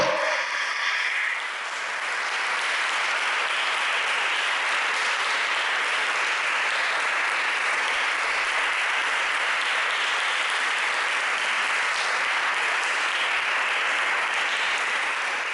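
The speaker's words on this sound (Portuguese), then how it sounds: "Aplauda ao Senhor" A church congregation applauds the Lord, a broad sustained roar of clapping that starts abruptly and holds steady and loud for the full stretch, with no talk over it.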